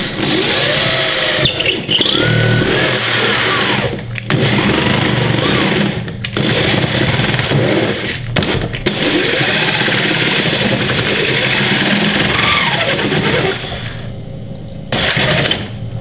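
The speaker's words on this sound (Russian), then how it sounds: "Когда сверлим, немножко как бы дрелью поворачиваем, чтобы ребра пилки лучше врезались в гипрок." Loud, steady whine of a power drill with a hole saw boring through drywall, running continuously with a few brief pauses and restarts.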